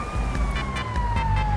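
An ambulance siren wails steadily from a vehicle in GTA 5, a loud, close, sustained tone slowly falling in pitch over traffic and engine rumble, with no talking.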